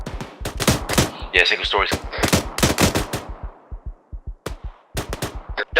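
Rapid automatic and single gunshots crackle through an ArmA 3 firefight, sharp bursts repeating irregularly at close to middle distance, with someone talking over the radio between and under the shots.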